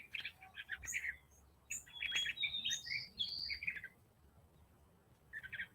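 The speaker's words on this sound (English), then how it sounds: "I think there's a little finch bird" Small finch chirping in short bright bursts, several quick tweets and trills close by, pausing briefly then resuming, with no voices over it.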